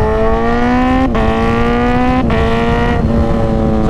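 A motorcycle with a quick shifter pulling hard through the gears, the engine note climbing in a loud, steady whine and dropping sharply at three quick upshifts, close and continuous.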